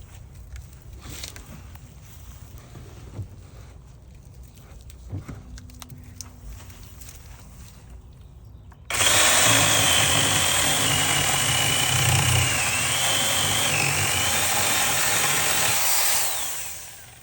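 An old Craftsman corded electric chainsaw fitted with a new replacement chain starts abruptly and runs steadily for about eight seconds, a loud, close, high-pitched whining buzz as it cuts, then cuts off, after quiet low rumble beforehand.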